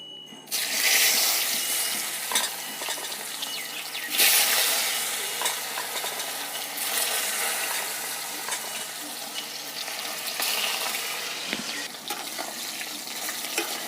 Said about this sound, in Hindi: तो फ्रेंड, मेरा तेल अब गरम हो चुका है। अब हम केले को फ्राई कर लेते हैं।